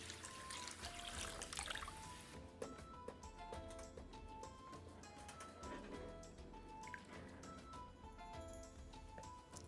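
Water poured into a deep skillet for lentil soup, a steady trickling stream with splashy liquid gurgles and small clinks, fairly quiet and close, with no talk.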